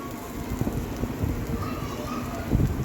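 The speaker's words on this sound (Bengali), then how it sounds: "এখানে পুটি মাছটা ভেজে নিচ্ছি" Puti fish frying in hot oil in a home kitchen, a steady crackling sizzle with soft pops and spits throughout, fairly close and even, with no voices over it.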